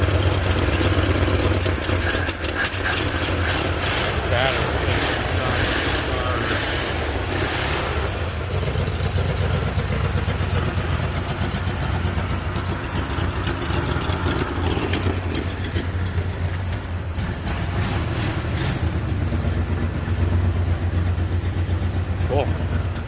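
1972 Chevelle Malibu hardtop engine idling after a cold start, a steady rough low rumble that runs continuously and loud, with a voice talking over it.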